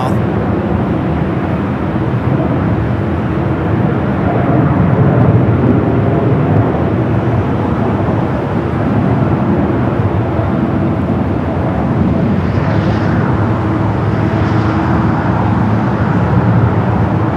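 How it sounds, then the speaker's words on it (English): A United Dreamliner jet takes off at Los Angeles airport, a steady broad roar filling the whole stretch with faint whining tones drifting in near the end, and a voice talks over it throughout. "We have a United Dreamliner taking off there on the south."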